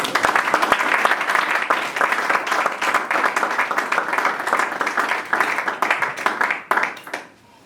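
A congregation at a church worship service claps and applauds in a full, rhythmic burst that carries on for several seconds, then trails off with a few scattered claps.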